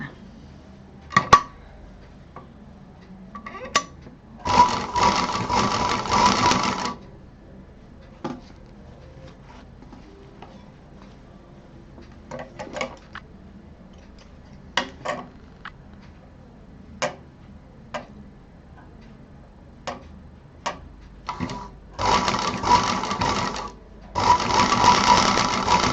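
A home sewing machine stitches fabric pieces for a hot pot pad in several loud, rapid whirring bursts of a few seconds each, close by, separated by quieter pauses filled with sharp ticks and handling clicks.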